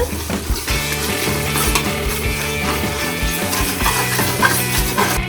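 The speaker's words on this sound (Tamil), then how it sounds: "இப்போ நம்ம அந்த மசாலா கலவையோடு இந்த இறாலை சேர்த்துடலாம் இப்போ நல்லா வதங்கணும் நல்லா வதக்கிடுங்க" Prawns sautéing in a masala mixture for prawn biryani, a busy close sizzle with scraping and clinks from a spoon against the pan, no talking.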